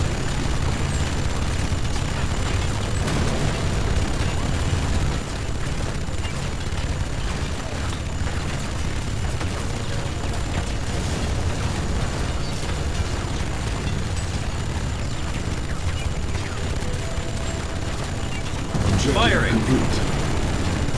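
Explosions and gunfire from the real-time strategy game Command & Conquer 3: Tiberium Wars, a dense continuous rumble of battle booms and shots with a brief louder burst near the end.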